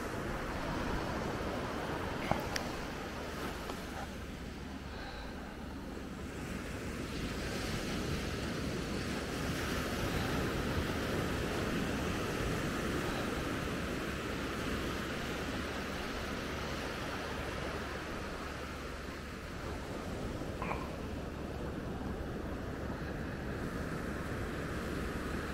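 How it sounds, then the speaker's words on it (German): Calm sea washes gently onto the beach at Maspalomas, Gran Canaria, a soft continuous surf roar blended with wind buffeting the microphone, with no talk. "das Meer ist auch schön ruhig, wunderbar"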